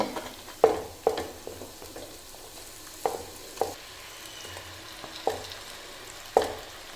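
Lemons fry with spices in a pan for a lemon pickle, with a faint steady sizzle underneath. Several sharp clacks of a spoon against the pan come at irregular intervals as the mix is stirred, and no one speaks.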